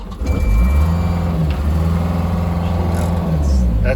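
A Caterpillar 305.5 mini excavator's diesel engine runs loud and steady with a low, even rumble throughout, and a faint beep sounds briefly partway through.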